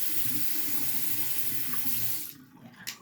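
Warm tap water runs steadily into a sink to wet cotton pads for removing makeup, a close hiss that cuts off after about two seconds, followed by faint splashes and a small clink.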